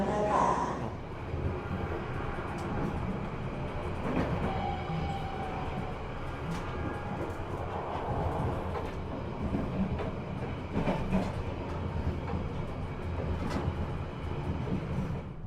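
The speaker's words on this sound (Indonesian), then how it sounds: "Keretanya sudah berangkat dari stasiun Jember" A luxury passenger train in Indonesia rolls steadily along after pulling out of Jember station, with a continuous rumble and faint rhythmic clatter of the wheels heard from inside a compartment suite, and a voice talking over it.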